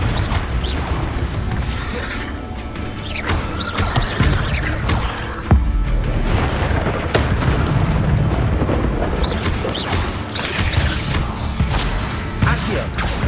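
Spell blasts and booming magical impacts from combat in Hogwarts Legacy, including the Confringo explosive spell, with repeated loud bursts and crashes over dense, continuous game sound and a shouted incantation.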